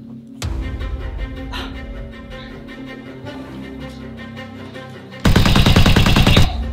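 Toy laser-tag blasters turned into real blasters fire in rapid bursts, a short burst near the start followed by scattered shots and then a loud, dense stretch of sustained fire near the end.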